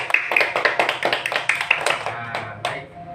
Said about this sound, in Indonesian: Nah, bagus sekali, tepuk tangan dulu.